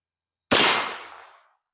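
A single sharp report from a Ruger LC Carbine firing a 10mm handload, loud and close, cracking out of silence and decaying over about a second with no voices.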